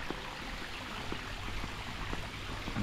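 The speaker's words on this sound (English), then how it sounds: "Sound of water." Continuous broadband water sound at a beach in Kai Bae on Koh Chang, a steady rushing wash with faint low rumble, no talk and no distinct waves rising above it.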